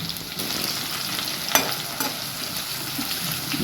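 Two chillies sizzle in hot oil in a cumin tempering, giving a steady soft frying crackle with a few sharper pops.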